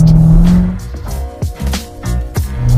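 A 2016 Corvette Stingray accelerates hard, its engine roaring loud and close, with surging revs and short dips between gear changes.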